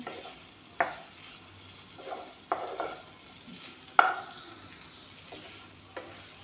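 Onions fry quietly in a pan under a faint steady sizzle, broken by a few distinct scraping stirs of a spatula at irregular intervals.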